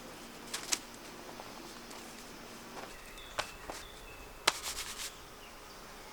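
Honeybees from a hive with laying workers hum faintly outdoors by a lake as they are shaken out, under scattered footsteps and sharp knocks against the hive boxes, with a thicker burst of buzzing near the end.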